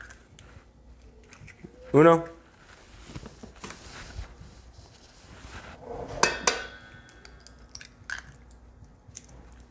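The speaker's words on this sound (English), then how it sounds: "So we'll crack our eggs in." Eggs are cracked into a meatloaf mix of ground meat and breadcrumbs, giving a quick close crack and wet squish after a short spoken word, with light kitchen clatter around it.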